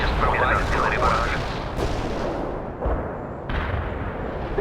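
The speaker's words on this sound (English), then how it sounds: "Товарищ командир, сейчас проводим артиллерий барраж" Artillery barrage in the real-time strategy game World in Conflict, with dense heavy booms and rumbling detonations rolling on continuously, several sharp new impacts standing out, under a voice speaking.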